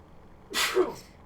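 A single sharp sneeze bursts out alone against a quiet background during a gouache painting session, short and close with a brief intake before the release.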